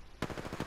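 A rapid burst of video game gunfire, about five quick close shots in a tight automatic rhythm, loud against a quiet background.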